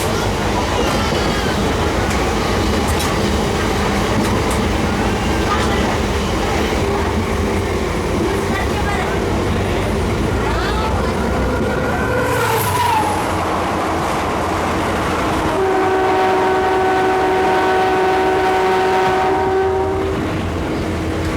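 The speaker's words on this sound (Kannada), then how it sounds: "ನಮ್ಮ ಟ್ರೈನ್ ಎಂಟರ್ ಆಗೈತ್ರಿ ಈಗ ಗುಳೇದಗುಡ್ಡ ರೋಡ್ ರೈಲ್ವೆ ಸ್ಟೇಷನಿಗೆ." A DEMU express train on the Solapur–Hosapete run rolls into Guledagudda Road railway station, steady rumble and wheel noise throughout, a brief horn note midway and a long sustained horn blast near the end.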